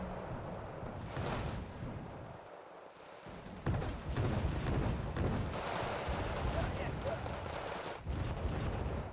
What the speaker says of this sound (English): Mortars versus mortars.